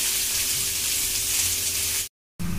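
Onion frying in oil for Nagpur-style tari poha, a steady close hiss and sizzle running continuously, then a brief silent gap before the sizzling resumes.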